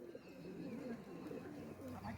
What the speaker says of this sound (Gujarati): કબૂતરો આટલા બધા આવે છે